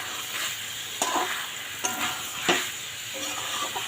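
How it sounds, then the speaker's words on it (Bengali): Spice paste sautéed and stirred in a pan, giving a close, steady sizzle broken by a few sharp scrapes of the spoon against the pan. "সেই মশলাটা এর মধ্যে দিয়ে দিলাম এটা একটু এখন কষিয়ে নেব"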